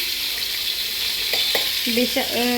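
Pointed gourd (potol) frying in a pan, a steady bright sizzling hiss throughout with a few brief knocks and squeaky utensil sounds toward the end.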